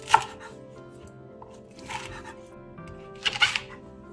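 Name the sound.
knife cutting onion and leek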